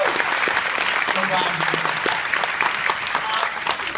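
A convention audience at a fan panel applauds for Chris Carter, a dense sustained round of clapping filling the whole stretch while a voice speaks briefly over it.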